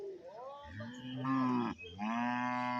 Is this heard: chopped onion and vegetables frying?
no